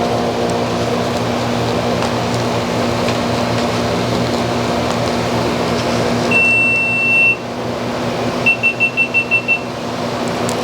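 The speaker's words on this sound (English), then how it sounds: "that was the sound of the GoPro going off" A GoPro camera beeps during a sweet potato harvest: one sustained tone, then a quick run of about six short, evenly spaced beeps, all moderately loud over a steady low background hum.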